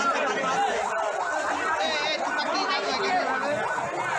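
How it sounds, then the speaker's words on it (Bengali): A fire service vehicle siren wails in repeating rising-and-falling sweeps at a fire scene, sounding somewhat distant under crowd chatter and people talking nearby. "ফায়ার সার্ভিসের গাড়ি"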